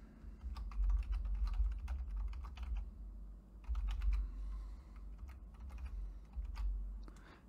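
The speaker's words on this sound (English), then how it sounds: "Just left click on the box and type the passphrase in again." Passphrase being typed on a computer keyboard, quick bursts of close key clicks in uneven runs separated by short pauses, no speech.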